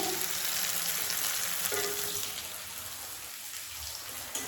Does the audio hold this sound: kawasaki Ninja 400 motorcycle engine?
no